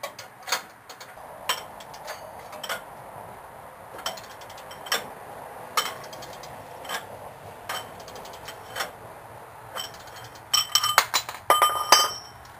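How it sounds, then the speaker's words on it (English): Slow, evenly spaced metallic clicks from a spring compressor being released on a coil spring of a 1968 Pontiac Catalina during a drum-to-disc brake conversion. A denser burst of clinks comes near the end, close and fairly quiet, with no talking. "Now to release the tension in the spring."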